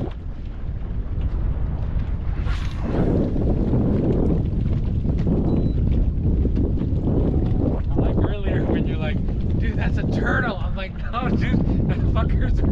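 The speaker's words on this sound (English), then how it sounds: "Oh, the wind is not helping on that." Strong wind buffeting the microphone on a boat out tarpon fishing off Sarasota, Florida, loud and continuous throughout, with people talking over it.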